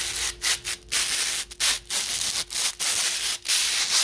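A worn wheel bearing contaminated with carbon is turned by hand, giving close, scratchy grinding rasps in repeated uneven strokes with brief gaps between them.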